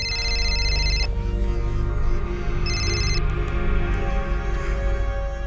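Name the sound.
phone ringing with an incoming call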